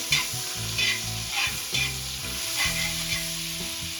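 Pav bhaji vegetables frying in butter while being stirred, a loud close sizzle with rhythmic scraping strokes of a spoon against the pan, no voices.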